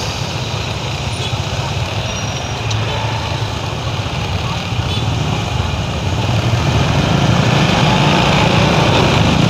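Motorcycle engine revving up steadily as it pulls away from a red light on an Indonesian road, a loud continuous drone with wind and traffic noise that grows stronger toward the end.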